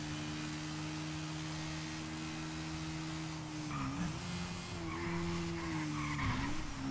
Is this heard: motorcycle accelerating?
yes